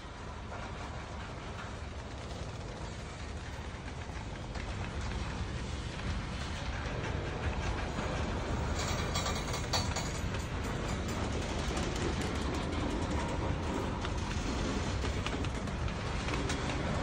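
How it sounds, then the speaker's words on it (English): A grain freight train rumbles steadily along the rails, a continuous, fairly loud roar that builds slightly and holds, with no voices. "The grain train is moving again."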